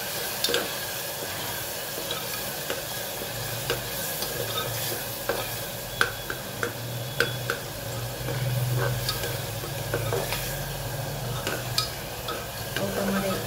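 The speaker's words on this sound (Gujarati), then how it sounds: "મરચું એડ કરી દઈએ સરસ મિક્સ કરી લઈએ" A spoon stirs red chili powder into dal simmering in a pan, with a steady soft sizzle and repeated scraping clicks against the metal over several seconds.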